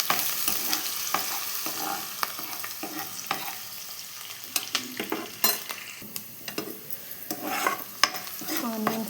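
Onions frying in oil in a pan, a close crackling sizzle under frequent scraping and clinking from a spatula stirring them, busy and irregular, with no voices.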